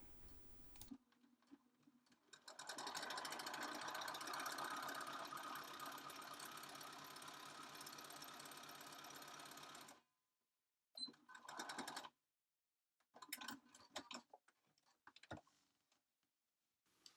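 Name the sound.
sewing machine stitching fabric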